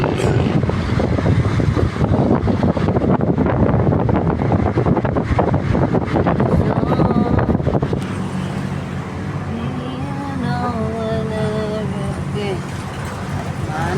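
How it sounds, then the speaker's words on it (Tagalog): Strong cold wind on an open road in the morning, roaring and buffeting the microphone in a loud continuous rush for about eight seconds, then easing to a lighter, steadier blow while someone talks over it. "Mahangin, malamig ang butil."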